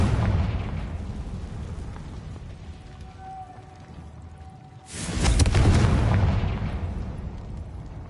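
The Confringo spell detonates in Hogwarts Legacy as a sudden loud blast that cuts through a low ambient rumble, then lingers as a heavy roaring explosion for several seconds, with no voices.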